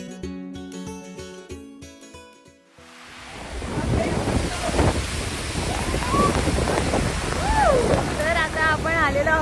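Loud, continuous roar of Niagara Falls, with voices talking over it; music plays briefly at the start before the roar swells in.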